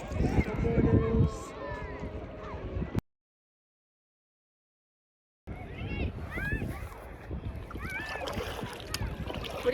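A kayak paddles across calm water on a summer day in Alaska, with soft splashing strokes and water swishing close by, a brief dead-silent gap midway, and people talking over the paddling.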